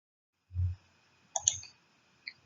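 A computer mouse clicks a few times in a quiet room, with one soft thump, a sharp double click and a lighter click later on, each close and crisp with silence between.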